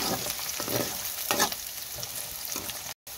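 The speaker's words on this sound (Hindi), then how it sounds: "अब हम इसमें मिर्ची ऐड कर लेंगे। अब हम इसे 1 मिनट के लिए भून लेंगे।" Golden-brown onions and chilies fry in a pan, with a dense steady sizzle and bursts of crackling as they are stirred, close and fairly loud, with no talking.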